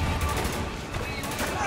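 Loud, rapid gunfire rattles in the shooter game Spec Ops: The Line, a dense burst of shots layered over a booming low rumble, with a voice talking underneath.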